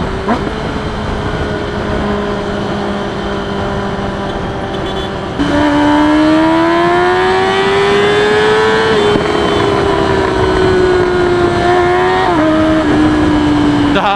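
A remapped, dyno-tuned Kawasaki ZX10R sportbike is held in first gear on the road, its engine loud and near. The whine climbs steadily as it accelerates, with brief dips at shifts, and wind rush runs underneath.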